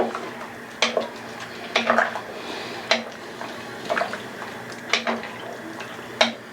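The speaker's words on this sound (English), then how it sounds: "So we'll give this a stir" A spoon stirring birria in a metal cooking pot, with repeated sharp clinks and scrapes against the pot at irregular intervals over a faint steady hum.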